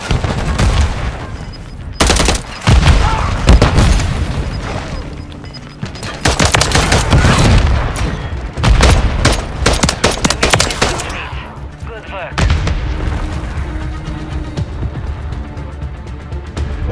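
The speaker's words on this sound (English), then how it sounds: "Stun grenade out!" Call of Duty: Modern Warfare III multiplayer combat: dense, continuous automatic gunfire and loud explosive bursts, including a stun grenade blast, layered over game effects for the full stretch without pause.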